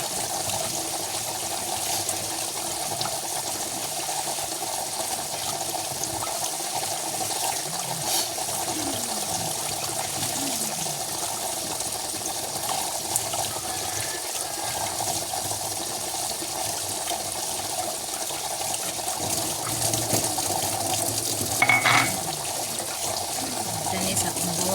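Running water rinsing a net, a steady hiss of flowing tap water that continues evenly for the whole stretch with faint, distant talk beneath it.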